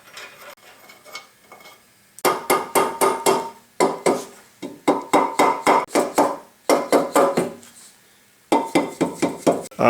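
Dead blow hammer striking the motor bell of a Yates American B244: bursts of rapid, sharp metallic blows in quick rhythmic runs, several clusters separated by short pauses, close and loud.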